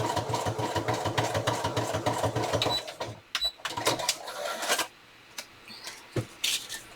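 A sewing machine stitching tiny zigzags runs in a fast, even mechanical whir with rhythmic pulses, stops and starts in short bursts, and ends with a few clicks and handling noises, up close.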